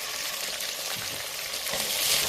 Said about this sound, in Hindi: अब इस स्टेज के ऊपर मैं यहाँ पे लहसुन अदरक की पेस्ट डाल रही हूँ 1 टेबल स्पून।